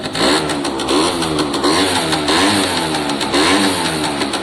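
An Italjet Formula 50cc two-stroke scooter engine runs on electric choke, a loud, close, steady buzzing drone with slight rises in revs throughout.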